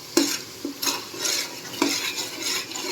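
A spiced sandwich filling gravy is stirred in a pan, a spoon scraping and clinking against the metal in several distinct strokes over a soft, steady sizzle, close and fairly loud with no voices.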